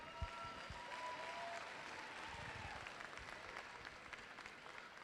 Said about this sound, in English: let's give the refs another huge round of applause